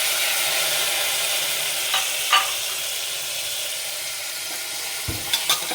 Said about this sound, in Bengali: চিকেনটা দিয়ে দিচ্ছি